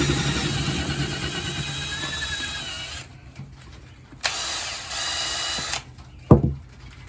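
A power drill fitted with a corn-kernel cutting bit whines steadily for a few seconds, stops, then runs again in a couple of short bursts.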